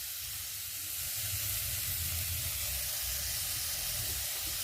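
Tomatoes sizzle in a pan for egg curry, a constant, fairly quiet frying hiss with a soft low bubbling beneath and no voices.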